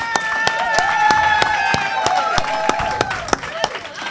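An audience at a university athletics event claps with sharp, evenly spaced hand claps over a sustained musical tone and background murmur.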